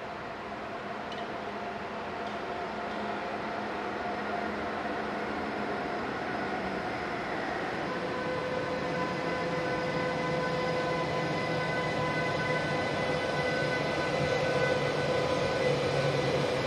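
A passenger train from Ostseebad Binz to Stuttgart pulls into a station with a steady, rising rumble and rolling wheel noise, brake squeal building toward the end, no voices.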